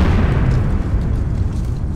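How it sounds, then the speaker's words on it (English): An alcohol explosion blasts a hole through a wall, giving a loud, continuous deep rumbling roar that fills the whole stretch without a break and with no voices. "I hope they were right about the alcohol explosion."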